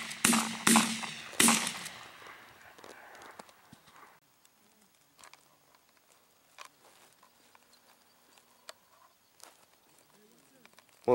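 Shotguns firing at mallards during an opening-weekend duck hunt in Wisconsin, several sharp, loud blasts in quick succession at the start, followed by quiet outdoor ambience with scattered faint clicks and rustles.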